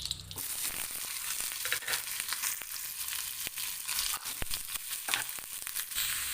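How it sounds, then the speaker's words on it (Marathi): Vegetables fry in a spoonful of ghee in a home kitchen, a steady crackling sizzle with sharp pops and occasional scraping stirs, close and continuous without speech. "एक चमचा तूप घालणार आहे आणि यामध्ये आपल्या भाज्या आहेत त्या सगळ्या काही आपण फ्राय करून घेऊयात"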